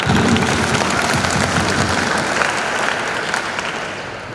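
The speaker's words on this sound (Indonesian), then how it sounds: "Tepuk tangan kita semua." Audience applause at an anti-drug event in Mimika, a dense, loud, sustained burst of many hands clapping together that slowly tapers off.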